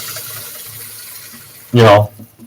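Water is poured briefly into a cup, a loud splashing gush lasting under half a second, with quiet voices and room noise around it while cooking rice for a microwave pressure cooker.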